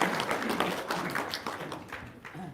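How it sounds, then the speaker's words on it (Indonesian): Applause from the audience at an Indonesian religious gathering, a short burst of scattered hand claps close by that thins out toward the end. "Ya, tepuk tangan dong"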